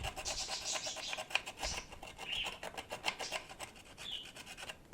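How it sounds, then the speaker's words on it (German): A curved file roughens the fuselage of an F3B model aircraft with steady back-and-forth scratchy rasping strokes, close and continuous, with no speech. "Das muss leicht angeraut werden. Ich helfe mir hier mit einer krummen Feile."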